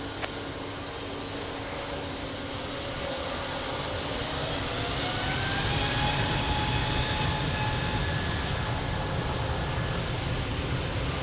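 A jet airliner taking off from runway 02 at Lisbon Airport, a steady loud engine roar building gradually, with rising whining tones heard from a distance and no voices.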